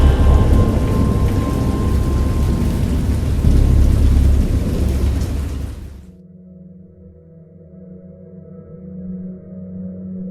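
A video game thunderstorm pours heavy rain with a deep rolling thunder rumble for about six seconds, then cuts abruptly to a quiet low tonal drone.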